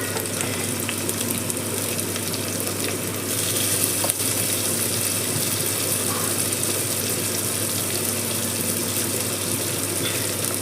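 Onions fry in a pan for tamarind rice, a dense, steady sizzle close up with faint clinks, continuing evenly without any talking.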